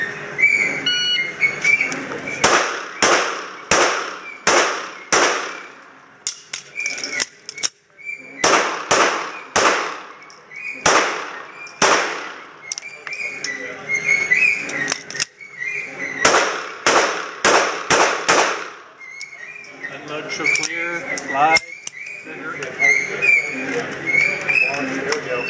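Pistol gunshots at an IDPA shooting match, sharp loud shots fired in rapid strings of several with short pauses between them, with voices around.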